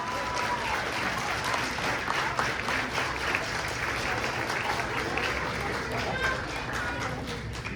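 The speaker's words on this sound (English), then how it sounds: "Can we all stand and give these 3 a round of applause?" Audience at a 5th grade promotion ceremony at McIntyre Elementary claps for three graduating students, a dense, even wash of applause lasting several seconds at moderate distance.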